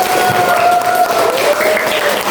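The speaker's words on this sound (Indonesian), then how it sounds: "Tepuk tangan untuk kelompok 1." Classroom applause for a student group during a lesson, a steady dense clapping from children lasting the whole moment, with a sustained tone ringing faintly beneath it.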